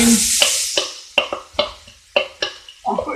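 Onions browning in a frying pan for a smoked kleftiko gravy: a brief hiss of sizzling at first, then about eight sharp, evenly spaced scraping stirs, close and clear.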